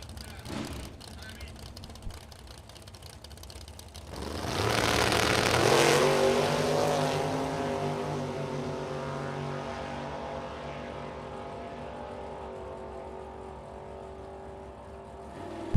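A 1971 Chevrolet Nova drag race car at a bracket racing event launches hard, its engine surging into a loud, sustained roar after a quieter idle, then holding a steady drone as it pulls away down the strip.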